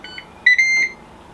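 A Ninja Woodfire pizza oven and smoker gives an electronic beep: a short tone followed at once by a longer sustained one, close and clear over a quiet background with no talking.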